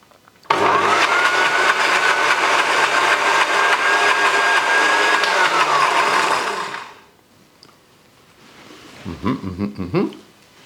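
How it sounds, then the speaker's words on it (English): A kitchen blender blending sauce verte whirs loudly at a steady high pitch for several seconds, then shuts off and winds down, followed by some faint handling sounds. "we just very quickly sort of blend it all together"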